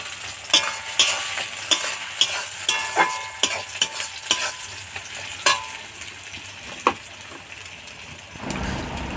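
Whole green chilies frying in hot oil for a country chicken curry, a steady close sizzle broken by repeated sharp stirring scrapes and clinks of a spatula against the pan, with a brief pause near the end.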